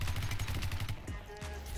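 Gunfire in the online shooter video game Ballistic Overkill, a rapid burst of repeated shots followed by a couple of scattered single shots, fairly loud and close.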